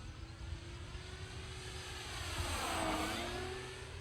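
FMS P-40B 1.4 m RC model warbird at full throttle, a steady propeller and electric motor drone that swells slightly as it passes nearer, then eases away, with no talk over it.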